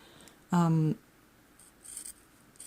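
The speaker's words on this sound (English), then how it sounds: "you have to cut right at the edge of the tip" Scissors snip once through fiberglass used for a stiletto nail build, a short crisp close cut, followed by faint rustling handling noise and quiet room sounds.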